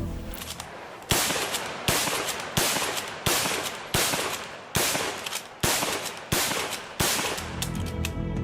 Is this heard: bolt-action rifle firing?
yes